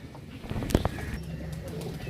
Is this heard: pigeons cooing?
yes